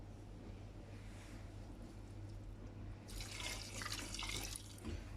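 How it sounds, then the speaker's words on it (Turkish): Meat stock is poured into a pot of browned onions for French onion soup, giving a faint, steady liquid splashing that swells louder near the end over a low background hum. "Şu an içerisine et suyumu ekleyeceğim."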